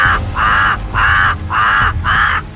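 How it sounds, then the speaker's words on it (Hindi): A crow in a cartoon caws loudly four times in a steady, evenly spaced series, each harsh call close and prominent with nothing else heard. "फिर कौवा जोर जोर से प्रकृति देवी को बुलाने लगा।"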